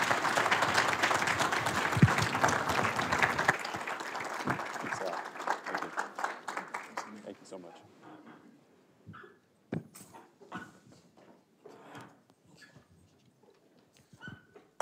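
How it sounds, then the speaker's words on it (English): Audience applause for guest speakers at a Martin Luther King Jr. Day ceremony, loud and dense at first, then thinning out after a few seconds into scattered claps and faint voices. "a round of applause for our guest speakers today"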